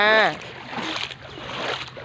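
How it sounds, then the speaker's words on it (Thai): Seawater floods into a village in Mae Klong, a broad, rushing wash of water heard close, with a voice talking at the start. "น้ำทะเลขึ้นหนุนสูงค่ะ น้ำท่วมจ้า"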